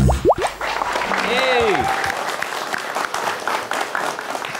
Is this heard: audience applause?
yes